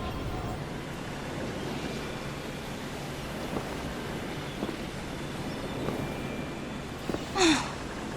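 Ocean waves on the open sea during a storm, a steady, faint wash of surf and wind that runs through the whole stretch, with a brief louder gust near the end.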